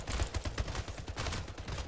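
Rapid gunfire in the sci-fi shooter Splitgate, a dense run of overlapping shots and bursts sounding continuously and fairly quietly, with no voices over it.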